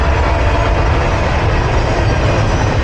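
A train rolls past close by in Canada, producing a loud, continuous rumble of wheels and cars on the rails with no break for the whole stretch.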